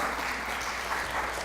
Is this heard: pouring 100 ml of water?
no